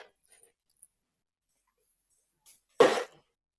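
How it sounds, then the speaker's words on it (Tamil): A dog gives one short, sharp bark after near silence, with a few faint clicks before it. "நாய்."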